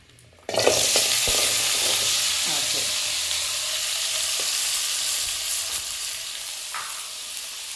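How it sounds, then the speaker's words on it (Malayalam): Chopped green chillies and small onions hit hot oil and fry with a sudden loud sizzle that holds steady and close, with occasional stirring scrapes. "പച്ചമുളകും നമ്മുടെ ചെറിയ ഉള്ളിയും കൂടെ കട്ട് ചെയ്തത് ഞാനൊന്ന് ഇട്ട് കൊടുക്കുകയാണ്"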